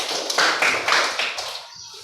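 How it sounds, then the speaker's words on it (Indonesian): Classmates in a classroom clap for their peers, a few quick rhythmic bursts of hands striking together at close range before the sound tapers off into quiet. "Berikan tepuk tangan untuk teman-teman."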